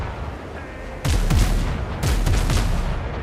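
Ship cannons fire in the pirate game Windrose: two loud, close blasts about a second apart, each with a heavy rumbling tail, and no voices.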